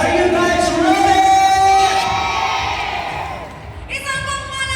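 A crowd at an anniversary and birthday party cheers, whoops and shouts loudly all at once, then the noise slowly fades before another burst of yelling rises near the end.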